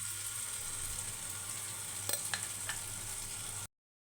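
Tempering seeds sizzle in a pan for gongura chutney while a ground mixture is stirred in; a quiet, steady frying hiss carries a few light scrapes midway, then cuts off abruptly.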